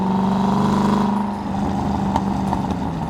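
A 2002 Chevrolet Corvette Z06 engine drones loud and close under load, dips briefly as a gear shift comes through, then pulls on steadily with a low, rumbling tone.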